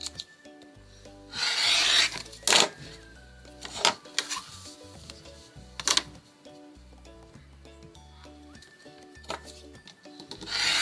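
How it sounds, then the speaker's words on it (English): Excess quilt batting and backing trimmed from a small quilted mug rug, close scraping and rubbing cuts in irregular bursts with quiet pauses between them and no talking. "Just trim off that excess batting and backing here."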